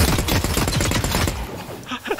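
Rapid gunfire from the sci-fi shooter The Cycle: Frontier, a dense burst of repeated shots for over a second, then a quieter stretch with faint clinks and a brief voice-like sound.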